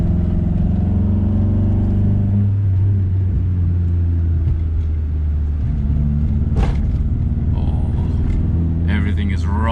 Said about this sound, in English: There's definitely a misfire going on.